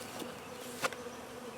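A clump of bees inside a cat house gives off a steady, quiet insect buzz that drones on without a break, with no voices heard.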